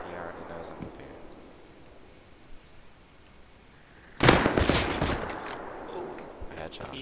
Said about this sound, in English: One's already shooting at me.